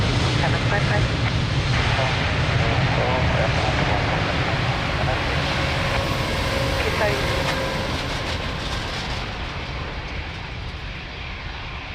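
A fixed-wing airliner takes off at Lisbon Airport, its engine roar a broad, steady rumble heard from a distance that slowly fades toward the end, with no voices over it.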